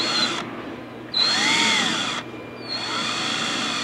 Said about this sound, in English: You're gonna drill right there?